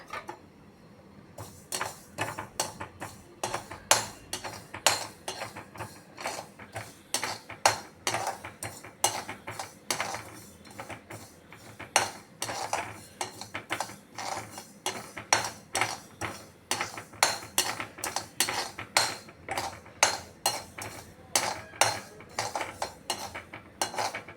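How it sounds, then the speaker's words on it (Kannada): Mustard seeds dry-roasting in a small pan with no oil, giving a steady stream of sharp ticking pops and clinks as seeds jump against the metal, close and fairly busy throughout with no talk. "ಸಣ್ಣ ಊರಿನಲ್ಲಿ ಎಣ್ಣೆ ಏನು ಹಾಕದೆ ಸಾಸಿವೆನ ಪಟಪಟ ಅನ್ನೋವರೆಗೂ ಹುರ್ಕೊಳ್ಬೇಕಾಗತ್ತೆ"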